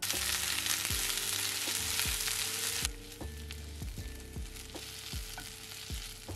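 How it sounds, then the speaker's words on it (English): Onions frying in oil in a pan, a dense steady sizzle with regular scraping strokes of a spoon stirring them about once a second, close and with no talking. "don't wait for the oil to heat. Add the onions straight away. Stir them occasionally."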